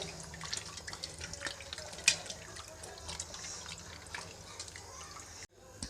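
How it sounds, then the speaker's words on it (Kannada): Cut kavalikai fruit for pickle being washed by hand in a basin of water, soft sloshing and dripping with small splashes, close and fairly quiet, stopping briefly near the end. "ಇವನ್ನ ನೀರೊಳಗಡೆ ಹಾಕಿಬಿಟ್ಟು ಈ ಥರ ಕ್ಲೀನ್ ಮಾಡ್ಕೊಳ್ತೀನಿ"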